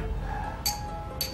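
Glasses clink together in a toast, two light, bright chimes about half a second apart, faint against a quiet room background.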